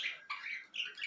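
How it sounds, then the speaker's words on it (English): Birds squawking and chirping at an indoor spot, a continuous run of shrill, bright calls close to the listener with brief pauses between bursts. "sorry about the birds, they're in the background for a reason"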